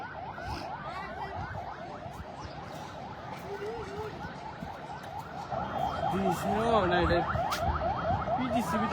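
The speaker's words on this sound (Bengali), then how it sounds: "ওই যে ফায়ার সার্ভিস আইতেছে।" A fire service vehicle's siren, near a burning power plant substation, wails in steady repeating sweeps that grow louder as it approaches, with street noise and scattered voices around it.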